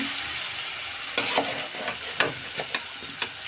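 Boiled dal filling, cooked with onion, garlic, green chilli and spices, frying in a pan with a steady background sizzle and several sharp scraping strokes of a spoon stirring it.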